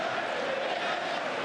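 Hostile football stadium crowd jeering Roy Keane during a 1999-2000 Premier League match between Middlesbrough and Manchester United, a continuous loud, distant roar of many voices with a sustained jeering tone.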